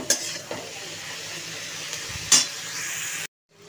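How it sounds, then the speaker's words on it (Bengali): A vegetable Manchurian mixture sizzling in a pan on a high gas flame while being stirred, a soft continuous hiss with a couple of utensil clinks, cutting to silence at the end. "একটু ভালো করে নেড়ে নিই"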